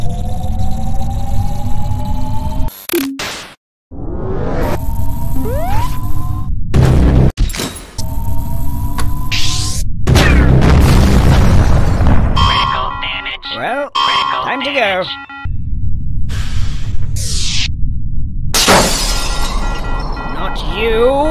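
Supreme Dominance orbital weapon in a Henry Stickmin game charging and firing, loud rising whines, alarm-like tones and shattering booms broken by abrupt silences, with character voices speaking between effects.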